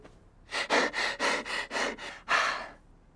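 A voice rapidly imitates fast breathing, with about seven quick, loud, breathy huffs in a steady rhythm, close up with no other sound.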